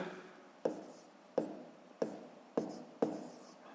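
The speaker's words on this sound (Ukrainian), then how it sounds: "Отже, записуємо 5 18." Numbers written by hand, five distinct scratchy strokes with brief taps spaced roughly half a second apart, close and quiet with no talk.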